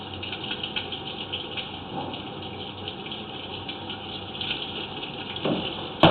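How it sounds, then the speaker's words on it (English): Kitchen sink water dumps from a drain above during a pre-sale sanitary inspection, making a steady low gush and splash that stays fairly quiet and constant, with a slightly louder surge near the end. "the kitchen sink water is dumping from above us"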